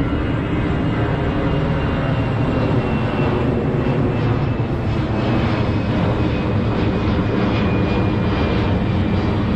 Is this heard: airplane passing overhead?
yes